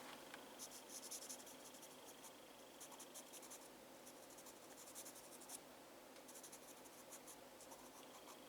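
A pencil scratching on paper while sketching a peacock, steady close drawing strokes in repeated bursts with faint intermittent high ticks, quiet and alone.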